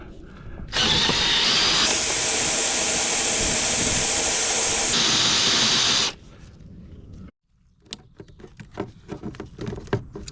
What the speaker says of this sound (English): I just drill the head of the bolt